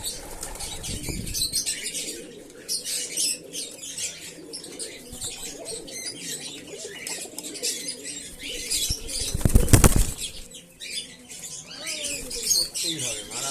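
White pigeons flap their wings in bursts at feeding time, with one loud close flurry near the middle. Chirps, coos and background noise run throughout.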